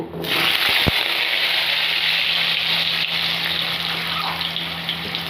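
A single diced potato, with a chili, frying in a pan of hot oil gives a loud, steady, close sizzle throughout, with a couple of brief clicks near the start.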